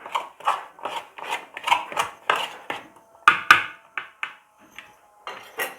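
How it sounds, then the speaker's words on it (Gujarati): Chickpeas coated with arrowroot flour and maida are tossed in a bowl, making a steady series of soft, rhythmic rattling and scraping bursts, each about half a second apart, with a few sharper clinks near the middle and no talk. "અને હવે ઉછાળીને આપણે મિક્સ કરવાનું છે."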